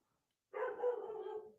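A single dog bark or short muffled woof, starting abruptly after silence and trailing off, fairly faint and heard alone.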